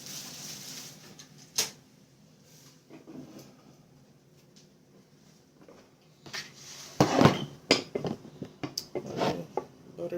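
Kitchen clatter as a butter dish is handled: a few sharp knocks and clinks of crockery on a counter, close and moderately loud, with quieter bumps and rustles before.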